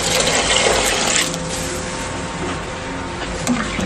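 Cooked macaroni for a fruit salad is rinsed with cold water in the cooking pot, making a steady, close rush of running, splashing water that stays loud throughout.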